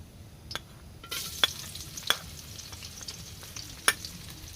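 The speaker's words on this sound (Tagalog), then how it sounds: "nagpainit lang ako ng mantika magigisa po ako ng bawang, luya at sibuyas" Garlic, ginger and onion sauté in hot oil, giving a close, steady sizzle broken by a few sharp clicks and scrapes of stirring.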